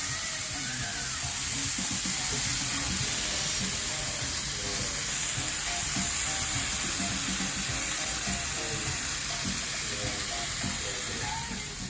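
Wagyu flap steaks searing on a hot cast iron pan give a steady, close, bright sizzle and crackle throughout, with a faint low rumble beneath and no talk over it.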